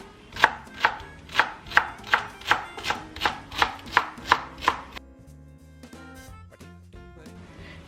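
A knife chops cilantro and parsley on a cutting board in about ten loud, steady, evenly spaced strokes, then gives way to quieter scattered knocks and handling sounds, with no one speaking.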